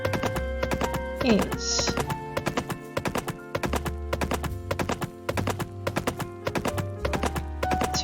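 Horse hooves walking over ground and logs in the farming game Pumpkin Days, a steady clip-clop rhythm of close, even hoofbeats with a brief spoken word partway through.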